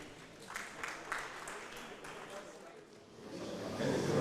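Seminar audience clapping to welcome a speaker at a land surveying annual event, scattered claps at moderate distance that swell near the end, with a voice speaking over them.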